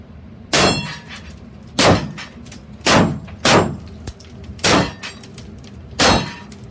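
AR-15 rifle shots fired while the shooter moves, seven loud, sharp reports in an uneven series, each with a short ringing tail, no talk.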